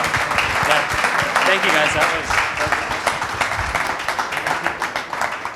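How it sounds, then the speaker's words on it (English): A meetup audience applauds a customer success panel, giving a dense burst of clapping that holds and slowly thins. A man briefly thanks the group over the applause. "let's give our panel a big round of applause"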